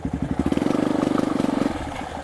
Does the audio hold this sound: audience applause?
no